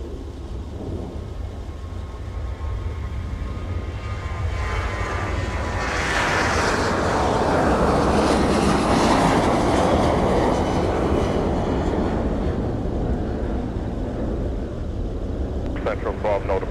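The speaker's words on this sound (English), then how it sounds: "here is Sun Country off to Cincinnati for Prime Air, getting airborne with the 737 Boeing converted freighter" Sun Country Boeing 737 converted freighter flying for Prime Air, taking off from MSP airport in winter, a loud sustained engine roar that swells as it climbs away, with a voice talking over it.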